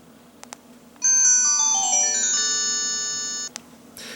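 A Samsung Luminix mobile phone plays its shutdown sound, a short descending electronic melody of clear tones lasting about two and a half seconds, framed by a few faint clicks.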